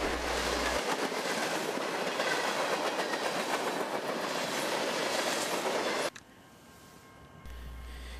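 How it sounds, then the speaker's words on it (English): A CSX freight train on the Mohawk Subdivision rumbles past close by with steady clattering wheels, then cuts off abruptly to quieter ambient noise. "A good listen gives a good shave and a haircut and a highball as this train proceeds past us"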